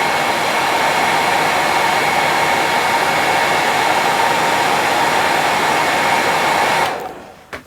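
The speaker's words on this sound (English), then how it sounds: "allow the wax to soak into the chenille, just heat it up, and you see it coming back" A hot air blower heating wax-coated chenille on a fishing fly, a loud, steady whooshing hum held for about seven seconds before it switches off abruptly.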